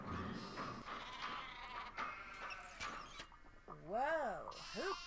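Sheep bleating in a Nancy Drew video game as a machine shears it, a few wavering bleats toward the end after a stretch of other game sounds, with a voice talking over the start.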